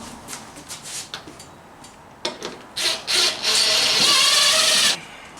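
A power drill bites into a plywood ramp, with a few light knocks and short bursts before a louder, sustained grinding whir near the end.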